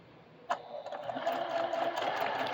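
A sewing machine chain-pieces fabric, starting with a soft click and then settling into a quiet, steady mechanical whir that builds slightly in pace.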